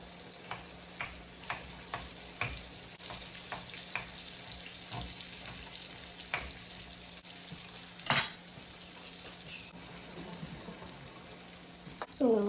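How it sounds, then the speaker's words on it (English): A taco potato filling bubbling in a pan over low heat, a soft continuous sizzle with scattered faint pops, a couple of brief utensil clanks against the pan near the end. "So we'll let that simmer for like 15 minutes on low-ish heat"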